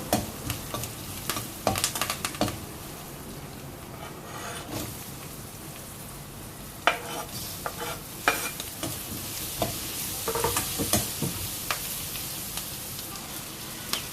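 Garlic frying in a pan for broccoli kurma, a steady loud sizzle with occasional stirring scrapes and spatters throughout.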